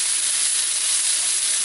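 Hot oil hisses in a close, steady wash of sizzle while beef is stir-fried for beef with vegetables, an even, unbroken frying noise with no talking.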